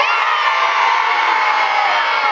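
Cheering at the official opening ceremony of The Brothers' Field for CBS Kilkenny comes as a loud, dense mix of shouts and whoops from a crowd of children, sustained briefly without pause.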